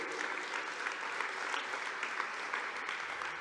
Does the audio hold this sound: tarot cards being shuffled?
no